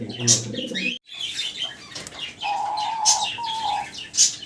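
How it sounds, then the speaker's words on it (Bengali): A pair of Australian diamond doves call in a cage, soft repeated coos and chirps mixed with sharp wing flutters and a brief pause near the start, fairly close. "খুব সুন্দর ডাকতেছে ভাই চমৎকার ডাকাডাকি করতেছে"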